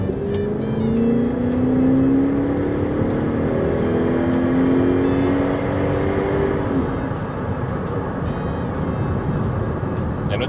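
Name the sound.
2001 Nissan Cima F50 V8 accelerating on a country road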